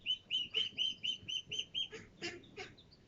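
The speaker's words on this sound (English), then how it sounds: "those are the ducks. These little tiny ducklings." Ducks and small ducklings call in a garden: a quick, regular series of high, thin peeps, roughly ten in a row, followed by a few louder, rougher quacks, all fairly close with no talk.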